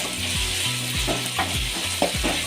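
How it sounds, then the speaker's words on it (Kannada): Ginger garlic paste fries in a pan with a steady sizzle, broken by several rhythmic scraping strokes of a spatula stirring it. "ಶುಂಠಿ ಬೆಳ್ಳುಳ್ಳಿ ಪೇಸ್ಟು ಸ್ವಲ್ಪ ಹಸಿ ವಾಸನೆ ಹೋಗೋದಂತ ಫ್ರೈ ಮಾಡಿಕೊಂಡ್ರೆ ಸಾಕು."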